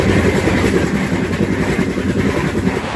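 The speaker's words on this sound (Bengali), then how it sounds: "তো ট্রেন কিন্তু বেশ ভালো একটা স্পিডে ছুটে চলেছে।" The Kolkata–Sairang Express 13125 speeds along after leaving Krishnanagar station, producing a loud continuous rumble with rhythmic clickety-clack of wheels over rail joints, heard from inside the carriage with no talking.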